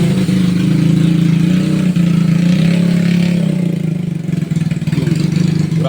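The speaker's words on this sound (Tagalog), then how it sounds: "Grabe ang motor, ang ingay." A motorcycle engine drones loudly nearby with a steady low idle hum, holding a constant pitch throughout with slight fluctuations toward the end.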